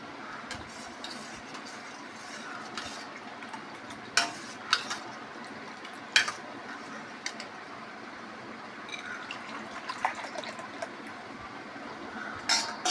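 Buttermilk being poured into black chana soup and stirred, giving soft liquid swirling with occasional clinks of a spoon against the pot, close and fairly quiet.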